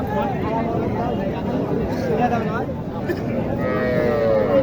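A cow moos several times, close by, at a cattle market, with its low drawn-out calls rising over a steady background of people talking.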